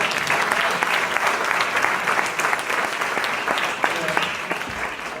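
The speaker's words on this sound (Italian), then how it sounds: "Eugenia merita il doppio applauso" Steady, dense audience applause follows a theatre performance in Sicilian dialect, filling the whole stretch at an even level.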